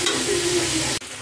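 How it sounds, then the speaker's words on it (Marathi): Onions sautéing with garlic and ginger in a hot pan over a high flame for butter chicken, a loud, close, steady sizzle with a sharp break near the end as the food is stirred, no voices. "कांद्याला आपल्याला थोडं परतून घ्यायचं आहे."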